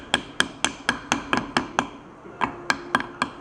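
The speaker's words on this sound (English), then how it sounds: "get like a rubber mallet or some type of wooden bar and just hammer it in there so that it's a tight fit" Mallet strikes driving a Stop-Gap Propel weed-guard prototype part into a tight fit, about a dozen sharp, evenly spaced knocks close by, with a brief pause midway before the hammering resumes.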